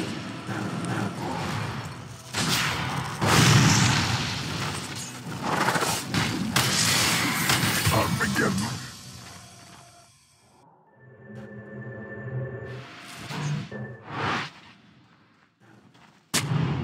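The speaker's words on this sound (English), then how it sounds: "Dire's bottom tower is under attack." Combat erupts around the Dire side's bottom tower in Dota 2: dense, loud booms and gunfire-like impacts fill the first nine seconds, then thin out into quieter clanks, tones and scattered hits.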